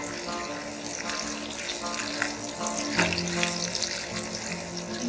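Ginger and green chilies fry in hot oil in a pan for a tomato onion sabji, giving a steady, moderate sizzle with faint stirring and no voices.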